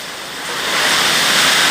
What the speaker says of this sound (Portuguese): Chuva com tempestade aí, ó.